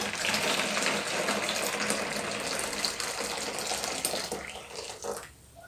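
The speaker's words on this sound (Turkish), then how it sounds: "Şimdi buna kaynar suyumuzu yavaş bir şekilde dolduruyorum." Hot water is poured slowly into a plastic bottle, a steady close gushing and trickling stream that runs throughout and thins out and stops near the end.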